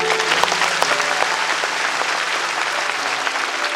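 Audience applause at a Hindu religious discourse on the Bhagavat Katha, a dense steady clapping from a large crowd that fills the whole stretch without pause.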